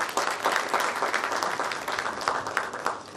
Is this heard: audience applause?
yes